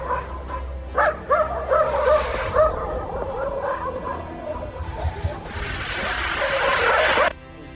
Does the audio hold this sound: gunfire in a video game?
no